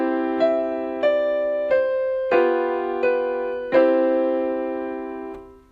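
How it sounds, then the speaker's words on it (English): Piano notes struck firmly and loudly, a short phrase of about seven notes with strong attacks that ring out and slowly fade. "Forte is loud, and it sounds something like this."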